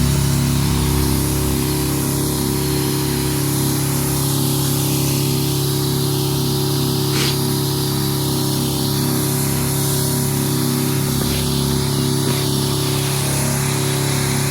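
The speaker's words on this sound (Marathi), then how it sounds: "ही पंपाने आपल्याला रोपांवर पाणी मारायचं आहे" Motorized sprayer pump running steadily while spraying water over plant seedlings in a field plot, a constant droning engine hum with a hissing spray layered on top, loud and close throughout.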